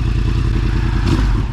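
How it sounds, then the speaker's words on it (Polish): A brief burst of loud, rumbling Yamaha R1 motorcycle exhaust at steady revs, close by, with a slight rattling texture. "Paweł, pokażesz jak chodzą te wydechy?"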